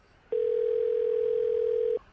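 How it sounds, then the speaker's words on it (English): A phone dial tone sounds as one steady, clean electronic tone that holds for about a second and a half, then cuts off cleanly, alone and loud. "He grabbed my phone from the nightstand and punched in 911."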